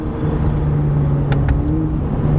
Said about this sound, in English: If you listen very closely, you can hear the turbo spool up a little bit.